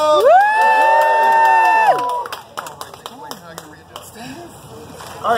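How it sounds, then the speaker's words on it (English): An audience at an alligator show on Jungle Queen Island claps and cheers. A loud tonal whoop comes first, then a burst of scattered, sharp claps that fades out. "how about a big round of applause?"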